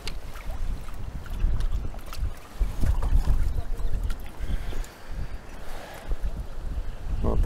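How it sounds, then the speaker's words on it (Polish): Strong gusting wind at a feeder fishing match by the water, buffeting the microphone in a steady low rumble that swells and dips, with faint voices underneath. "No ten wiatr to się rozhuśtuje tak coraz mocniej."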